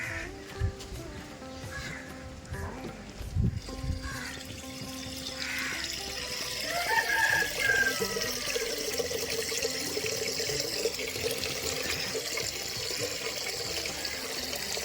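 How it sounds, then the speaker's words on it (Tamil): Running water pours steadily into a clay pot, a continuous splashing flow with faint background sounds and a brief thump early on. "அதனால தான் நான் வந்து மண்பானையில் தண்ணி பிடிக்கிறேன்"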